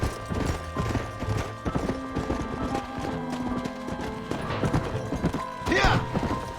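Horse hooves galloping in a steady clip-clop rhythm inside the Western open-world game Red Dead Redemption, loud and continuous with a brief whinny and game music beneath.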